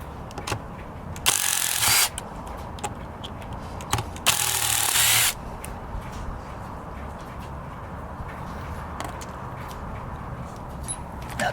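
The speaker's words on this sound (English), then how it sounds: "you're gonna have to use an impact driver to take it up" A Black + Decker drill driver set up as an impact driver runs in two short bursts of about a second each, loud and close, with quieter clicks and handling noises between them.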